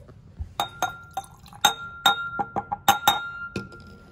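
A glass stir rod clinks lightly and quickly against a glass beaker as calcium chloride is dissolved in water. The bright, ringing taps come in an irregular series, with no talking.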